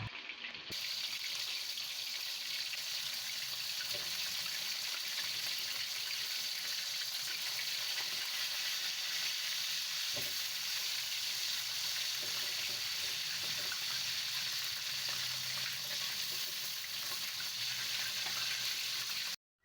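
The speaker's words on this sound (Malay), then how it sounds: "Goreng ayam separuh masak" Chicken pieces frying in hot oil with salt and turmeric give a steady, dense sizzling hiss that continues unbroken for nearly twenty seconds, close and fairly loud with no talking.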